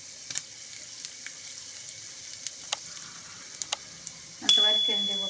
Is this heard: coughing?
no